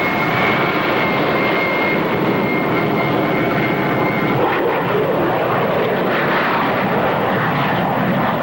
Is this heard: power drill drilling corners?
no